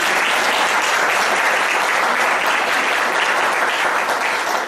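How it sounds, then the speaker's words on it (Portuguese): An audience gives a seminar presenter loud, dense applause, a full steady wall of clapping that fills the whole short stretch without letting up. "acho que merece uma salva de palmas também pela apresentação"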